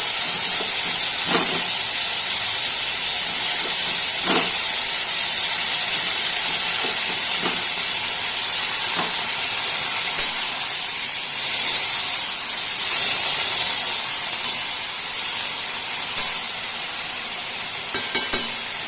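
Boiled potatoes frying in a pan for a Bengali vegetarian dish, giving a steady loud sizzle and hiss throughout, with occasional soft stirring knocks and scrapes and no talking.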